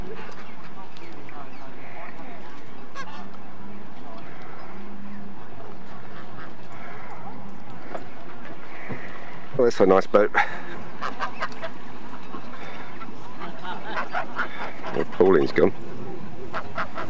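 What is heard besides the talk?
ducks quacking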